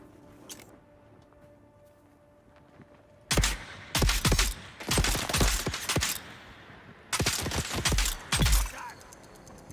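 Automatic ranged weapons firing in the Dune: Awakening game: after a quiet stretch, several loud bursts of rapid gunfire crackle in close clusters, with brief gaps between volleys.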